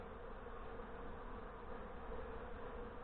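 Honeybees from a newly installed nuc hive in Northern Michigan buzz as a faint, continuous low drone, steady and unbroken throughout with no voices.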